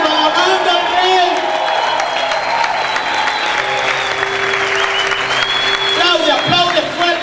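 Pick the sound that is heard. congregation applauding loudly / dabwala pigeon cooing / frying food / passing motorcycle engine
congregation applauding loudly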